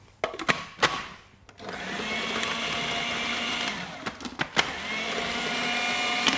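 Almond flour, sugar and butter are beaten together, a close, steady mechanical whir that settles in after a few sharp clicks and knocks at the start and continues with occasional tapping.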